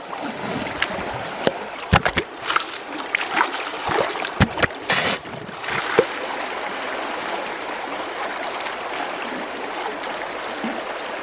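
Water splashes and sloshes in a gold pan weighted with a few rocks while prospecting in New Zealand, with irregular close splashes and knocks over the first half, then settling to a steady soft wash.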